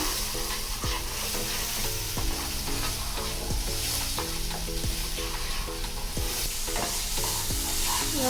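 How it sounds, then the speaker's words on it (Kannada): Onion masala frying in a pan for chole sizzles loudly and evenly throughout, with regular scraping strokes of a spoon stirring at a quick rhythm, no talking. "ಫ್ರೈ ಆಗ್ತಾ ಇದೆ, ಸ್ವಲ್ಪ ಫ್ರೈ ಆಗಲಿ ಇನ್ನು ಸ್ವಲ್ಪ"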